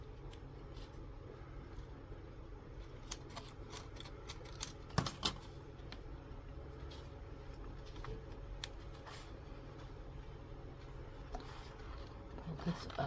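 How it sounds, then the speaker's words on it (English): Scissors snip through paper while a winter journal tuck spot for tags is made, with a scatter of light, quick clicks and rustles over a steady low room hum and no talk. "I'm going to cut this off"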